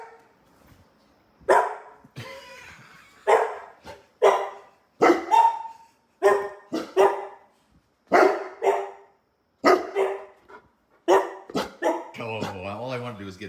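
A Bernese mountain dog barks in a string of loud, deep woofs at irregular intervals, with a whine near the end and people talking in between.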